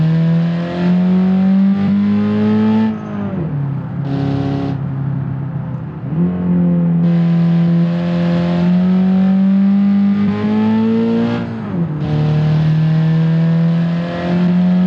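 A car engine revs steadily in a drawn-out drone, dipping and bogging down at intervals as if nearly stalling before climbing again, loud and close with no talk.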